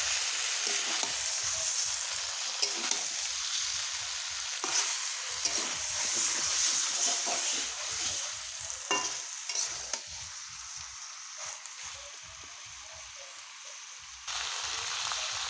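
Chicken liver frying in oil in a pan while being stirred, a steady sizzle with repeated scraping stirs throughout, close and alone.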